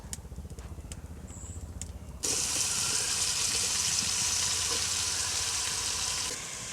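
Oil in a wok-style pan on a stove, beginning with faint clinks and low background hum, then a sudden loud, steady sizzling hiss that holds for several seconds before easing slightly at the end.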